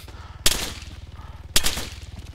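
Gunfire in the Arma 3 video game: two sharp, loud shots about a second apart over a steady low rumbling engine-like drone.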